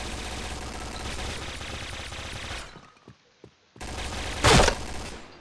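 Pindad SS2 V5 rifle in Point Blank: a loud, dense stream of rapid automatic fire, a brief pause with a few single shots and clicks, then another burst with a sharp, bright crack near the end.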